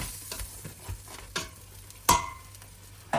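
Food being scraped from a frying pan into a pot, with a few soft clatters and a sharper knock of a utensil against cookware partway through.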